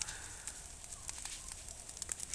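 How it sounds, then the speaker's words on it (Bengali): Weeds set alight in a crop field to clear them burn in the open air, giving faint, scattered crackles and small pops over a quiet background. "এই যে এগুলো জ্বলতেছে এই যে এখন বাতাস আসছে আর টাস টাস করে ফুটতেছে"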